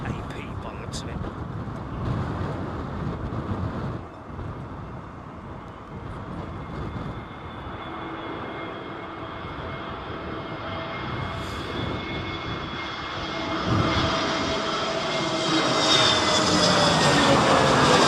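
An airliner landing at Heathrow airport during Storm Isha roars in from afar as a rising jet engine whine that grows louder and closer over time, mixed with gusty wind noise and someone talking throughout.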